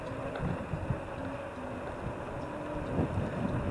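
Strong wind buffets the microphone during a long bicycle ride on the Tagaytay loop, a steady broadband rumble with gusty low-frequency thumps running throughout the clip, close and moderately loud, with no voices.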